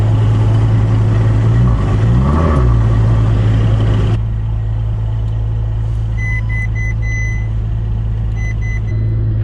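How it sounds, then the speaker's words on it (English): A wrecked Ferrari FF with its rear axle torn off idles loudly and steadily nearby, a deep continuous engine drone that thins slightly partway through while faint intermittent beeps sound in the background. "I got the Ferrari started, so now I'm gonna try to back up and unload this"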